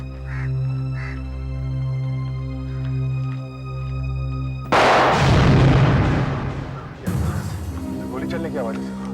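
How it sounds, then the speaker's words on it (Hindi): A sudden loud burst at a bungalow lands like a gunshot, crashing in after a steady humming drone and followed by a second sharp impact and ringing decay. "गोली चलने की आवाज है।"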